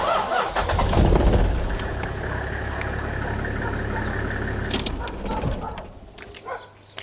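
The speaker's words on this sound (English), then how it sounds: "we'll go and start the car" A car engine turns over and catches during a battery load test, then idles with a steady low rumble before settling down; a dog barks faintly nearby.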